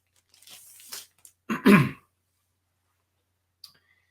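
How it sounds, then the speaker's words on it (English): Crinkling and rustling of a comic book being slid out of its plastic bag, a few short crackly bursts close by, then a faint click after a pause. "Let's get it out of the plastic bag here and see if we can see a little bit better."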